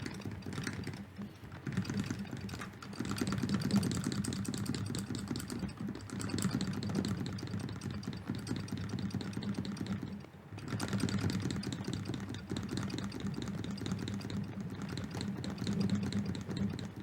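Running footsteps in the Atari 2600 game Decathlon, a fast, steady, even pitter-patter of soft electronic ticks during a race, continuing for the whole stretch with brief pauses, fairly quiet, no talk.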